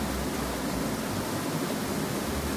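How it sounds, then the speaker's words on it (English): A loud waterfall in the video game Graveyard Keeper roars as a dense, steady broadband rush, constant and close for the whole stretch, with no talk. "hello waterfall. Super loud waterfall."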